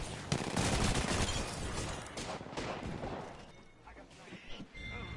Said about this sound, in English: Start shooting people.